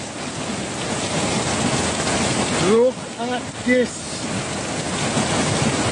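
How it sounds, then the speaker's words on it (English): Floodwater rushes and pours through a sandy gully near a road bridge in Jamaica, a steady loud broadband roar throughout with a voice speaking briefly in the middle. "Look at water pouring down in the sandy gully."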